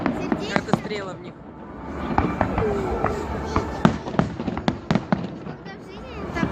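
Rapid fireworks bursts pop and crack one after another at close range during a long salute, while people chatter and exclaim underneath.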